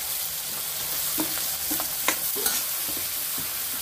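Cleaned, turmeric-coated prawns fry with onions in a pan, giving a steady close sizzle broken by frequent scraping stirs and a few sharper utensil knocks.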